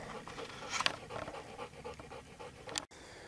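An old bluetick hound pants hard and rapidly after tussling with a raccoon, quick close breaths with a brief scratchy rustle near the end.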